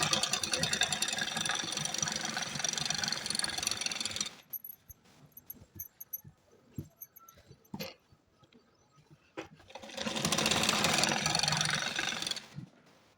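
A sewing machine runs in two bursts while stitching a salwar hem, a dense mechanical whir lasting several seconds, then a quieter stretch of small handling clicks before the machine starts again.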